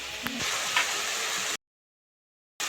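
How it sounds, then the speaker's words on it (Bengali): Masala paste for a pangas fish curry sizzles in hot oil, a steady close crackling hiss for about a second and a half before stopping abruptly into silence. "দিয়ে মশলাটা খুব সুন্দরভাবে কষে নেব"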